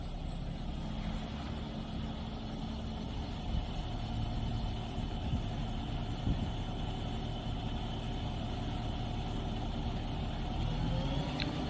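An Ace lugger hoist truck runs its arms back to dump a container, a steady diesel idle and hydraulic drone humming on evenly with faint clanks from the moving equipment.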